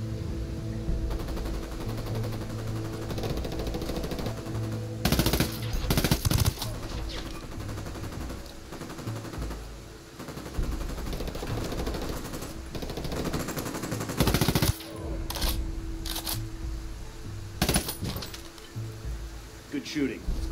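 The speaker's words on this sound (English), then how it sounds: "Opening fire on these fuckers." Video game firefight with repeated bursts of automatic gunfire cutting through a constant droning background, sharp loud volleys clustered at intervals, and a voice talking over the action.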